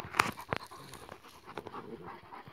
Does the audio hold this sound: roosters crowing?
no